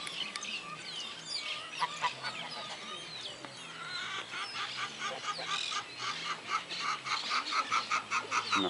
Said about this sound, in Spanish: Unos patos, unas ovejas,